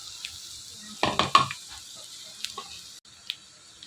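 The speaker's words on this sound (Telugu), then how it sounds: "క్యారెట్ ముక్కలు వేసుకున్న తర్వాత ఇదంతా కూడా బాగా ఫ్రై చేసుకోవాలి." Onions, carrot pieces and green chillies frying in a pan for egg noodles, with a short burst of stirring scrapes and clatter over a faint, quiet sizzle.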